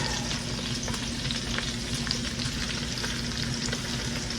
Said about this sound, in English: I'm using a very small pot because this little cabbage is going to cook down. And in that bacon grease, it's going to be good.